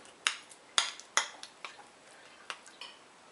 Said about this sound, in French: je vais commencer à en écraser un petit peu à la cuillère